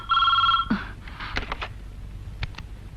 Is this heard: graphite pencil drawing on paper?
no